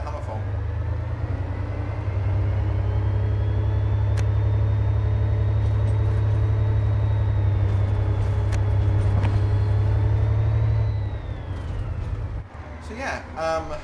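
In Train Sim World, a DB BR 363 diesel shunting locomotive pulls away after its brakes release, giving a loud, steady low engine drone that holds for about ten seconds before easing off. Someone talks over it.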